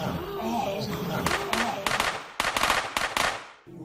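Dramatized gunshots fired by British soldiers: a ragged volley of sharp cracks in quick succession, loud and close, mixed with shouting voices and crowd noise.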